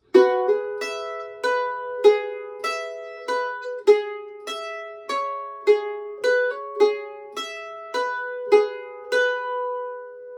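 A mandolin picks a bright melodic phrase of single notes, steady and close, each note ringing briefly before the next, with no talking.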